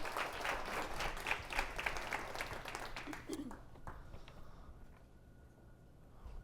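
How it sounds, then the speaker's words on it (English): An audience applauds panelists at an education and civil society discussion event, a dense wash of clapping that fades out over a few seconds, leaving a quiet room. "please give a round of applause to our panelists"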